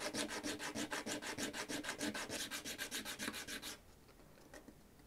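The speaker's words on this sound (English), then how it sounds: "we need to keep sanding until the entire face of the penny is zinc" Sandpaper rubbing back and forth across a copper-plated zinc penny, with about twenty quick, even strokes in a steady rhythm that stop abruptly, leaving a quiet room and one faint tap.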